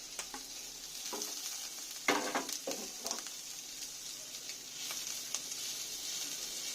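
Chopped green chilies hit a hot pan of chicken pasta and sizzle steadily, a soft, even frying hiss broken by a few clinks and stirring scrapes, fairly quiet and without voices.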